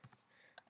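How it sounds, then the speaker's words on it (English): Typing on a computer keyboard: a few quiet, close key clicks, two quick taps at the start and another pair near the end, separated by a brief near-silent gap. "I'm just going to type a simple one."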